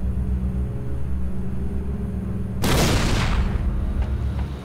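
Big artillery gun in the game Resistance: Retribution fires a shell: a loud, sudden blast about halfway through, its broad roar decaying over a second or two above a steady low rumble of battlefield ambience.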